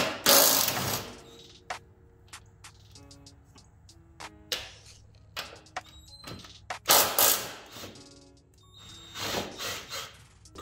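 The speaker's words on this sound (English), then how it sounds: "So you have to undo these three bolts. They're also gonna be 14 mil." Ratchet undoing 14 mm bolts on a Honda Accord during a coilover install, close rapid clicking bursts with metallic knocks and pauses between turns, repeating throughout.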